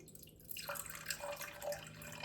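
Water poured into a Weck jar sitting on a kitchen scale while feeding a sourdough starter, a quiet trickling, dripping stream that begins after a brief pause and runs steadily close by.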